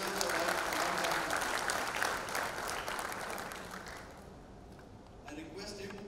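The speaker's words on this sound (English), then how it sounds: "he deserves a round of applause" Sustained round of applause from a conference audience welcoming actor Sanjay Dutt, dense and steady, easing slightly toward the end before swelling again.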